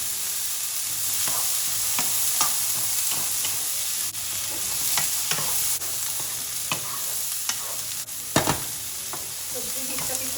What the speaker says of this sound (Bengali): কিছুটা সবজি মিক্স করে দিব।